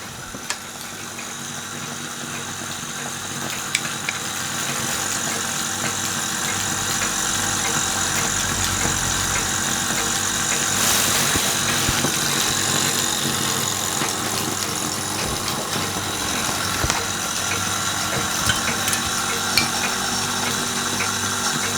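A tiny miniature model steam engine built by Lutz Hielscher runs steadily, giving a continuous close, fine-textured mechanical whir and hiss with a faint rapid beat, alone with no voices.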